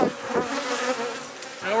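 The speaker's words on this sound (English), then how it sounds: "this is the bees we're going to use to make our cell builder" Honey bees drone steadily at a hive being gathered for a queen-rearing cell builder, a close, continuous buzzing hum with slight swells in pitch and volume and no talk.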